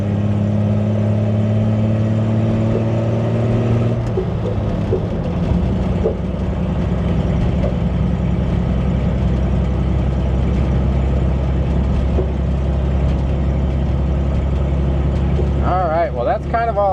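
A propane-powered 1968 Ford Ranchero pulls hard from second gear, its engine note steady and loud, holding a strong low drone throughout with a brief rise in pitch near the end.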